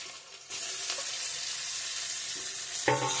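Garlic sizzles in hot oil in a pan, a loud steady crackling fry that jumps up sharply as it hits the oil, with a brief stirring clatter near the end and no talking.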